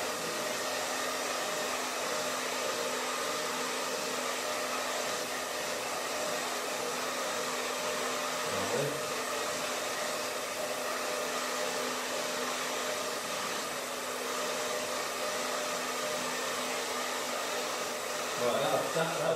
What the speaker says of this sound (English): So let's just dry this off.